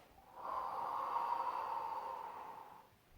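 A single slow, steady exhale during a Pilates exercise, a soft breathy rush that swells and holds for a couple of seconds before fading, close and quiet with no talk.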